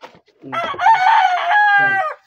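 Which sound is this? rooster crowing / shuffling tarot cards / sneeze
rooster crowing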